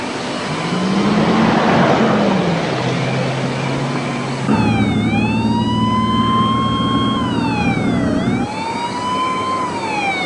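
A loud wailing ambulance siren rises and falls over an engine's rumble as it drives off, switching partway to a faster yelping pattern, staying close throughout.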